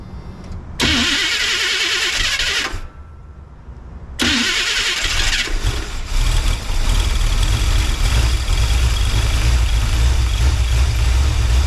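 A 1984 Chevy Silverado with a 350 V8 cranks with a loud whir in two bursts, pausing between them, then catches and settles into a steady, rumbling idle close by.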